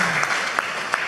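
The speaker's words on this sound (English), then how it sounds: "a round of applause." Audience applause at the day-three afternoon wrap-up of a games conference, a brief patter of claps lasting about a second with a couple of sharper hand slaps standing out.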